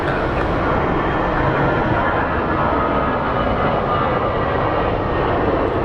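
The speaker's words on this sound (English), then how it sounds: "We have a 737 MAX 8 operated by American Airlines headed to Miami" A Boeing 737 MAX 8 jet airliner at Phoenix Sky Harbor International Airport roars steadily and loudly throughout, a broad continuous engine rumble with no talking.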